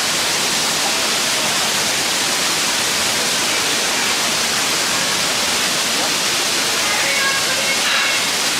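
A waterfall at the end of a stream-crossing hiking trail roars as a steady, dense wash of water noise, close and loud, filling the whole clip with no break.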